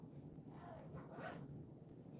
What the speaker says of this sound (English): This takes skill to zip a zipper all by yourself